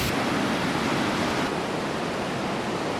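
Waterfall in Badgastein, an Alpine spa town, roaring as a steady, dense broadband rush of falling water, continuous and fairly loud with no voices over it.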